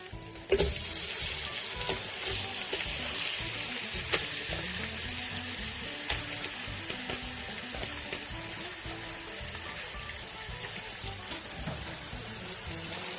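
Half a kilo of minced meat frying in a pan with browned onions and spices, a steady close sizzle and crackle with light stirring clatter, no voices.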